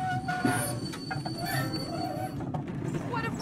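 A train runs on rails in a period film, with a steady loud rumble of wagons and wheels and occasional squeals and clacks throughout, no talking.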